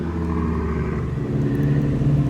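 A Toyota MK3 Supra with a big-turbo 2JZ engine rumbles and revs up close, a deep steady drone that swells slightly in pitch and loudness as it goes.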